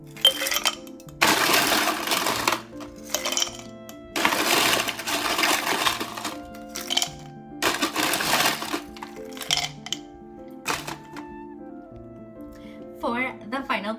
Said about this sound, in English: In goes the ice.